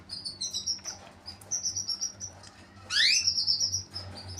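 Caged canaries chirping in a breeding setup, a run of bright repeated tweets and short trills, fairly close, with a louder burst of rapid song partway through over a low steady hum.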